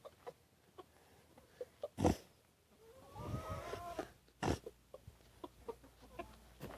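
Chickens and a rooster cluck and squawk in short, scattered calls as bread is tossed to them, with a few louder squawks standing out against a quiet farmyard background.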